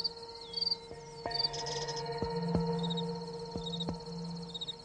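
Garden crickets chirp in quick, high pulsed trills that repeat softly throughout, over faint sustained tones and scattered light clicks.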